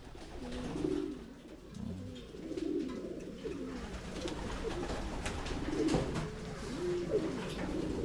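Pigeons coo in soft, repeated low phrases, one after another, over a steady background hum with no one speaking.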